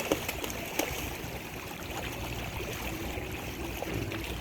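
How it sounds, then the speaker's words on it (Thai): Flowing water of the Chao Phraya River in Thailand, a steady outdoor wash of moving water near a bridge, with faint gurgles and a couple of brief knocks near the start, no talking. "มาดูบรรยากาศแม่น้ำเจ้าพยาครับ"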